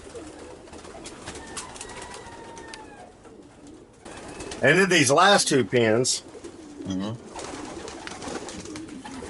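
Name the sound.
racing pigeons cooing in breeding loft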